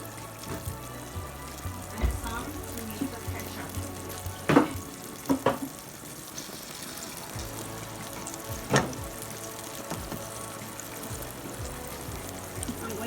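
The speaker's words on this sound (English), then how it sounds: "So as you can see, my sauce is reducing." A ketchup and mayonnaise sauce simmers and reduces in a pan, making a low continuous bubbling sizzle with several sharp utensil knocks and scrapes against the pan, close and moderately quiet.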